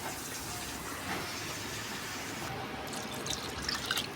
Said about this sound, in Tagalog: Lagyan na natin ng sabaw ang papaitan natin.